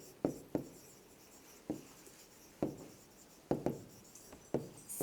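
A pen writes an answer by hand on paper, in short scratchy strokes that come in irregular bursts, close and fairly quiet, with no talking.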